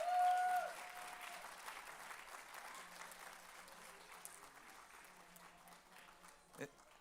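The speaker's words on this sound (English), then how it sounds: "One more time, a round of applause, Mr. Pepe Serna." An audience at the annual Cesar Chavez Breakfast applauds, clapping that starts strong and fades steadily into a faint, scattered patter over several seconds.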